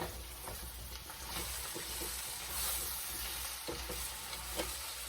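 Seasoned beef cooks in a pan, a steady close sizzle and crackle with occasional spoon scrapes and stirring, no talking.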